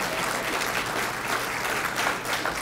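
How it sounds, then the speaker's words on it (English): Crowd applause at a fire department awards ceremony, a dense continuous wash of clapping from many people filling the whole moment at even loudness. "Can we give them, please, a round of applause?"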